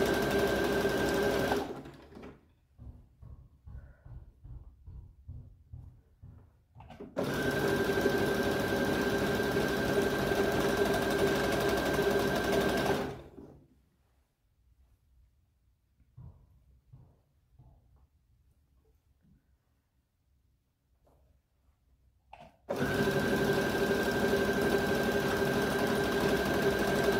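A sewing machine runs steadily, stitching and pulling fabric through while modifying a kimono, in three long loud bursts with quiet pauses between them where faint handling clicks and rustles are heard.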